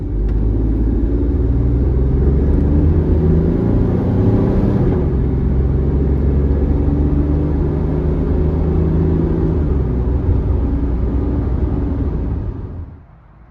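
A 1997 Ford F-150 regular cab longbed with a 4.2 V6, towing a loaded trailer on the freeway, gives a loud, steady engine and road rumble that fades away at the end.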